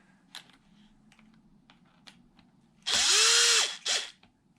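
Differential bolts on an Arrma Typhon RC car being loosened: a few faint clicks and taps, then a loud close whirring burst from a small power driver, followed by a shorter second burst.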